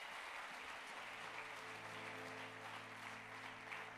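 A church congregation at an evening worship service applauding to acclaim the Lord, a steady, fairly quiet wash of clapping from many hands that holds for several seconds.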